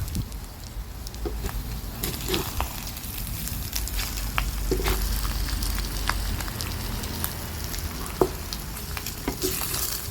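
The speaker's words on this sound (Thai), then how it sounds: "แล้วเราก็จะผัดต่อไปเลยนะคะ" Pickled mustard greens and egg stir-fry in a pan, giving a steady soft sizzle with scattered crackles and clicks from stirring, quiet and close for about ten seconds.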